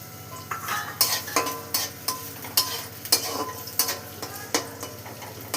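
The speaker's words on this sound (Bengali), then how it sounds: "তারপরে দিলাম পেঁয়াজ কুচানো।" Chopped onions frying in oil with nigella seeds in a pan, a close sizzle under repeated scraping strokes of a spoon against the pan at a fairly regular rhythm.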